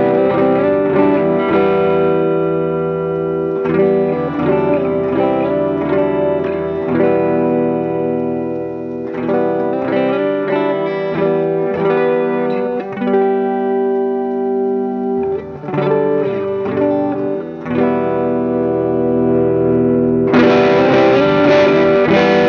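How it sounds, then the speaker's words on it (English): Electric guitar through a Klon clone overdrive pedal, gain up, with the guitar volume knob rolled back so the tone cleans up; steady strummed chords and riffs ring out loud and alone with no talking. "And as I roll the volume down, you'll hear it clean up really well."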